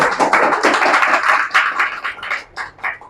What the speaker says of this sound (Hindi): पहले तो हमारे सर के लिए जोरदार ताली हो जाए